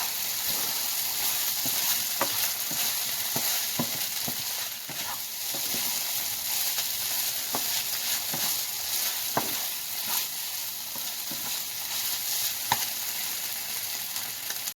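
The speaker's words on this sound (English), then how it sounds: "Mixing the rice until the color is there, and you see it is almost done." Rice stir-fried with wing sauce and chopped chives in a hot pan, a steady loud sizzle with repeated sharp scrapes and taps of the utensil, no talk.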